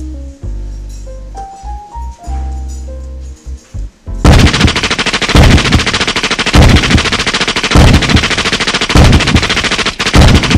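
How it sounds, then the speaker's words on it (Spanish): Rapid automatic gunfire erupts after a few seconds of tonal music, a loud sustained fusillade of dense cracking bursts continuing to the end, with no talk. "No sacarán nada disparándole a mi más grande creación."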